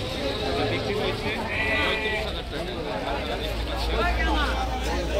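Livestock bleating at a busy Qurbani cattle market in Gabtoli, Dhaka, several short bleats rising over a steady crowd hubbub and nearby talk.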